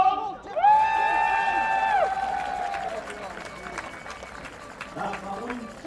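Home spectators cheer at a blind football European Championship match, England against Germany, in Berlin: a loud, sustained shout rises over steady crowd noise near the start, then the din continues more evenly throughout.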